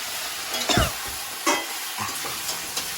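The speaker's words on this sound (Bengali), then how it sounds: "এটার মধ্যে মটনটা দিয়ে দিলাম আমি" Pieces of mutton go into a pan of frying onions, a steady hiss of hot oil with a few thumps and scrapes of a spoon stirring, close and without voices.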